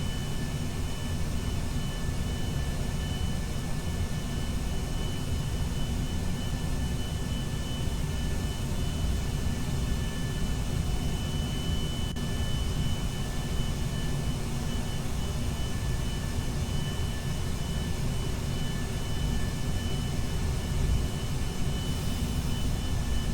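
Steady aircraft engine drone from a plane climbing in Kerbal Space Program, a continuous broadband roar holding level and unbroken throughout with no voices.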